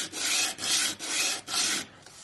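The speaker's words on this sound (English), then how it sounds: "I am only filing up and down in one straight line." Metal is worked by hand with a file in straight up-and-down strokes, giving four steady rasping scrapes, close and distinct, with no talking.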